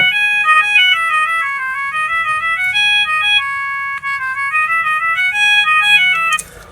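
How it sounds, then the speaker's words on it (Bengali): A bright electronic ringtone melody from a Discovery D80 phone plays loudly and repeatedly in a looping pattern, clear and alone, cutting off abruptly at the end. "ফোনটির যে রিংটোন এটা এখানে কিন্তু মোটামুটি দুইটা রিংটোন এই ফোনটির ভিতরে পাবেন"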